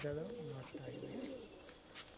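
Male pigeons cooing in a loft of giant Kaldum and Laldum pigeons, soft rolling coos repeating close by, mixed with someone talking over them.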